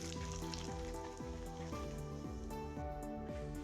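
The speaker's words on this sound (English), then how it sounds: "As the butter melts, I add 1/2 tablespoon cumin seeds and toast them for 5 seconds." Cumin seeds toasting in melted butter in a single pan, a steady close sizzle and crackle with no voices.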